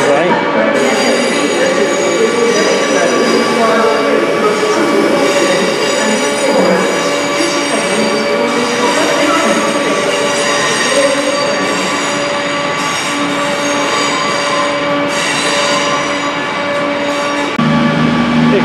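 A passenger train, unit 32218 on a service to Birmingham International, passes through a station in Birmingham with a loud, steady rumble of wheels and carriages and a high metallic squeal running throughout, close by and continuous.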